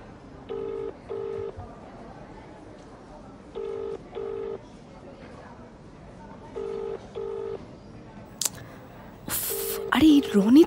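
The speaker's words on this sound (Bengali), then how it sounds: "আরে এই রনিতটা ফোন তুলছে না কেন?" A phone call rings out unanswered as a series of paired ringback tones repeats at even intervals, faint but clear, before voices and a louder burst of noise break in near the end.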